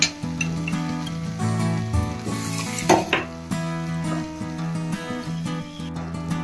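A spoon stirs a prepared chilli channa mixture into sizzling vegetables in a pan, with steady frying hiss, scraping and clinks of metal against the pot, close up.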